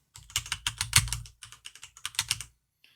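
Rapid bursts of keystrokes on a computer keyboard during server setup, close and clear, in quick irregular clusters with brief pauses, then a last faint tap after a short silence.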